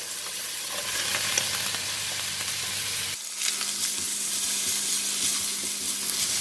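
Cabbage goes into a hot stir-fry pan with carrot and shiitake mushroom, and the steady sizzling of the frying vegetables continues without a break, swelling briefly after a short dip about halfway through.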